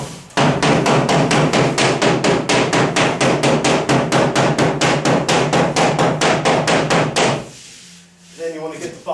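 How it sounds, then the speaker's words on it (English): A rubber mallet taps rapidly and steadily against the face of drywall in front of a window opening, making about thirty close, evenly spaced thuds before it stops, and then some faint shuffling follows. "Using a rubber mallet, you're going to tap"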